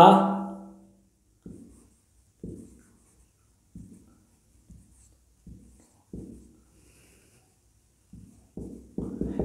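Writing on a board during a history lesson, with a run of short scratchy strokes spaced irregularly in a quiet room after a brief louder sound at the start.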